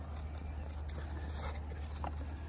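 A dog whimpers on a riverbank of the River Severn during a barbel fishing session, with soft, faint whines over a steady low outdoor rumble and no talk.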